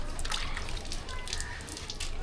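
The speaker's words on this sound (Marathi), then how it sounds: "तोंड धुवून घेते आता हे बघ तोंड धुवून घे" Water splashes and sloshes close by as a face is washed by hand, a steady wet trickle with soft slaps running through the whole brief moment.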